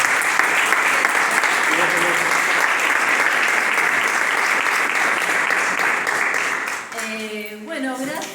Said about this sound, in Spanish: un aplauso para Natalia